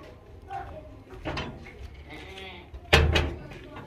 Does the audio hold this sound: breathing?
no